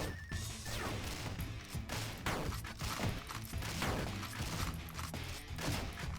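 Dense, continuous volleys of gunfire and impact crashes from the 2D action game Dungreed, loud and busy throughout with rapid overlapping shots and smacks, no talking.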